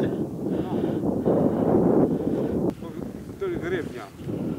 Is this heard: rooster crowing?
no